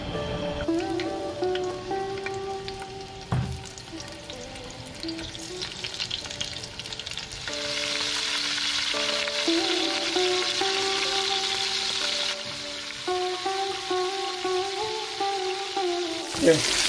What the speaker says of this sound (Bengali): এখানে এবার আমরা আলুটাকে আর ফুলকপিটাকে হালকা করে ভেজে নেব।